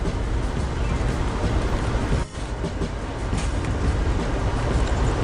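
A passenger train rolls along railroad tracks in Indiana near the Illinois line, a loud continuous rumble and rattle heard from inside the car, with one brief dip partway through.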